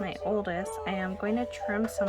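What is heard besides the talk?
No everyday noises stand out.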